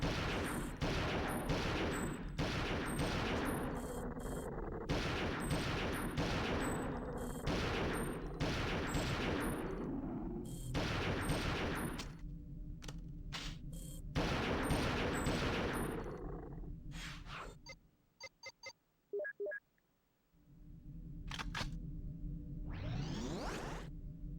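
Loud, repeated assault rifle fire in a video game fight against an attack ship, bursts tightly packed for about fifteen seconds, then a quiet gap with a few faint clicks and a closing whoosh.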